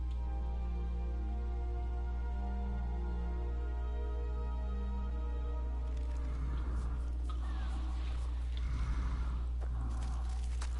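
Horse in the video game Skyrim: soft snorts and breathy whinny sounds over a steady low game ambience, with a few faint hoof thuds near the end.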